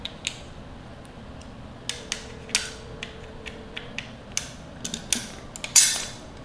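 An adjustable fitting on a Jazzy Carbon powerchair motor being loosened with a tool, giving a series of sharp, irregular ratcheting clicks and creaks, close and alone with no talking.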